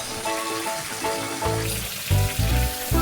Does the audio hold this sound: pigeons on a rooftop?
no